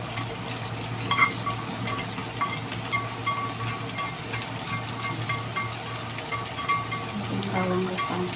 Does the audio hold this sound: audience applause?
no